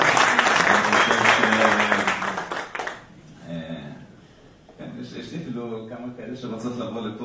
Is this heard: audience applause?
yes